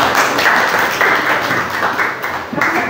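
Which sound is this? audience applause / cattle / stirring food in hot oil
audience applause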